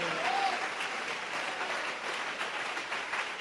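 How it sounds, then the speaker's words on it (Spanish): A church congregation applauds loudly during a sermon, a dense and continuous wash of clapping that holds steady for several seconds with no speech on top. "Alguien que le dé un aplauso fuerte al Señor."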